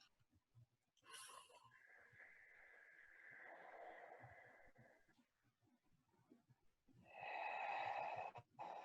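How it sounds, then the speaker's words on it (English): Slow, steady breath exhales during a guided breathing exercise in a beginners' workshop, heard as two sustained airy breaths, the second louder and closer, with a quiet gap between them and no talking. "Just keep those exhales consistent."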